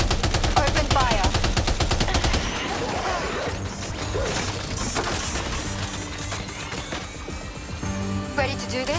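Loud gunfire rattles through a Death Stranding 2 battle, first a fast machine-gun burst and then scattered shots, crashes and metallic clatter over nine seconds, with voices talking in between.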